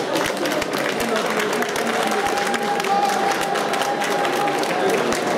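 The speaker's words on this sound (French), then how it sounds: "Monsieur Bouit Matib, je veux qu'on vous applaudisse" An audience at an association evening event applauds continuously, dense and steady clapping filling the room, with a few voices and cheers mixed in.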